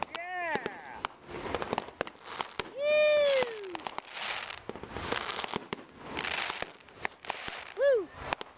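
Fireworks at the Marin County Fair on a July evening: whistling rockets rising and bursting in scattered pops and crackles at a moderate distance, with excited crowd voices calling out between the blasts.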